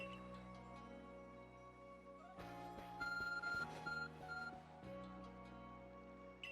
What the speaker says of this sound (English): Arc phone is beeping.